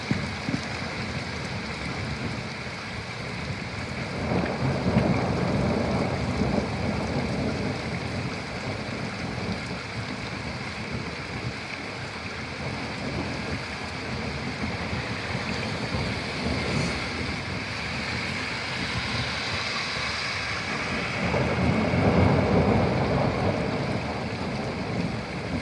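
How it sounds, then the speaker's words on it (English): Steady heavy rain pours throughout a thunderstorm, with low thunder rumbles swelling around the middle and again near the end; no voices. "it was just the thunderstorms arriving in just the thunder rumbling noises here."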